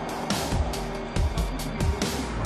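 Jaguar I-PACE eTROPHY electric race cars launching at the start of the Berlin round: loud, close whooshes and surges as several cars sweep past in quick succession, with whining tones over road roar.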